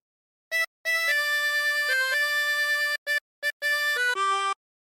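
A harmonica plays a phrase of the folk tune Roll the Old Chariot Along, a solo run of clear reedy notes, some short and some held, separated by brief breaths.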